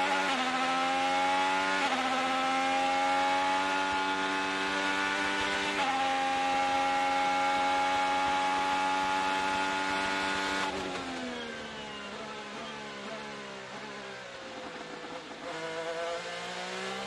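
Onboard an IndyCar racing a practice lap at the 2024 Grand Prix of Long Beach street circuit: a loud, steady, high-pitched engine whine holds for about ten seconds, then drops in pitch and eases off under braking before building again.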